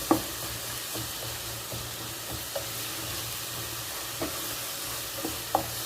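Okra and other ingredients are stirred in a pan over a steady, hissing sizzle, with occasional soft spoon knocks and scrapes at irregular intervals and no voices.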